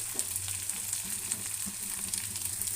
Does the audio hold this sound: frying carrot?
yes